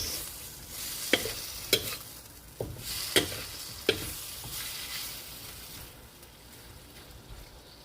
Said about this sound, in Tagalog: At haluin lang muna natin ng maigi.